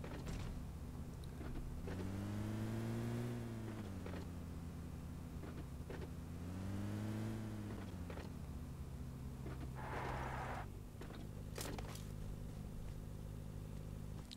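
Car engine in the PUBG Mobile battle royale game, a steady low drone with two rising-and-falling revs, fairly loud throughout with no talk.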